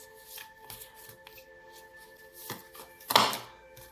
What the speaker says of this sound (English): Now I feel I should shuffle a little more.